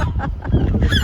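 Seagulls calling loudly and close in harsh, honking cries that overlap in a brief, continuous burst, heard alone.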